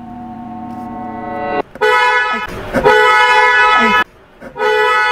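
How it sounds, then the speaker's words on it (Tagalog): A car horn sounds loudly in three honks: a first blast, a longer sustained one, then a short final toot after a pause. "check natin yung ating horn."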